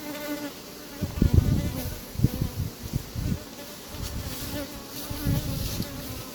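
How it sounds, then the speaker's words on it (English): Bees buzz steadily and close around a hive in an apiary, a dense droning hum with occasional louder bumps and knocks. "Oh, some bees are on the top, and you go like this."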